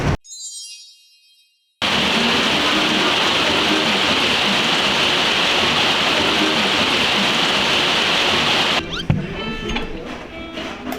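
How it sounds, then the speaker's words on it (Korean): Heavy monsoon-like rain pours down in a dense, loud, steady roar that begins abruptly after a brief quiet moment and continues unbroken, with a faint voice near the end. "폭우가 쏟아지기 시작하네요"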